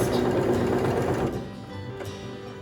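A sewing machine runs close by, back stitching across a seam on a lined drawstring backpack: a dense, steady mechanical whir that eases off midway and carries on more softly.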